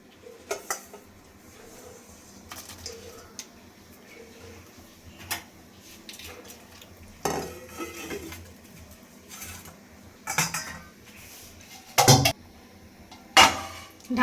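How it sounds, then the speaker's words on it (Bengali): Fried fish goes into a cooking pot for a village-style fish and bottle gourd curry, with sparse metallic clinks and clatters of a spoon against the pot, some sharp and close, over a quiet background. "ভেজে রাখা মাছগুলো দিয়ে দিচ্ছি।"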